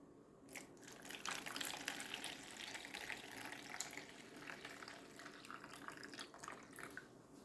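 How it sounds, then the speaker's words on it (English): Hot water pours steadily into a container of dye for knife-handle dyeing, a continuous soft splashing and trickling stream. It is fairly quiet and close, with no talk over it. "And then I'm going to pour my hot water in."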